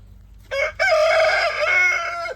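A rooster crows loudly and close, with a short opening note and then a long sustained call; backyard chickens gathered around a large feed bowl.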